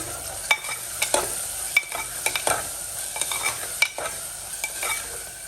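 Chana dal with turmeric and salt is stirred in a hot pan, a spoon scraping and knocking in repeated strokes over a light sizzle, close and clear, with no one talking.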